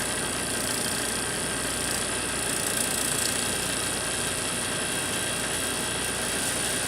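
A vacuum pump pulls air out of a chamber, holding a loud, steady mechanical hum with a rough, churning texture and no pauses from start to finish.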